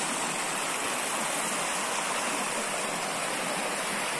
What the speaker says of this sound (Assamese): এই শুনিছে নদীৰ কুলু কুলু মাত।